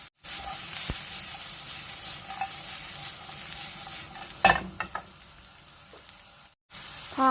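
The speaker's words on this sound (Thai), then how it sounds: "ผัดให้สุกก่อนเนาะ" Vegetables stir-frying for spicy Korean noodles in a hot pan, a continuous close sizzle with scraping stirs and a brief clatter near the middle, breaking off into a short silence before the sizzle resumes.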